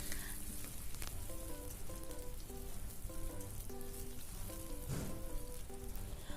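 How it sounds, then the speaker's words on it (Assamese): Chopped onion and green chillies fry in oil for an egg and potato dum, giving a quiet, steady sizzle. Soft background music with a plucked melody plays throughout. "অলপমান পিয়াজখিনি ভাজি লৈ হৈ গল"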